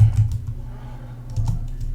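Keys clatter on a computer keyboard in short close bursts, with a brief pause between two clusters of typing.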